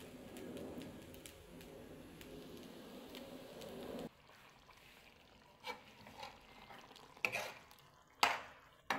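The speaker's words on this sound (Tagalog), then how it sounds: "kumukulo-kulo na ang ating adobo" Adobo simmers in a pan, a steady bubbling sizzle at first, then gentle stirring with a few distinct scraping and clinking strokes of the utensil against the pan.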